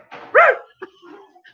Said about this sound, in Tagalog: May kasamang tahol.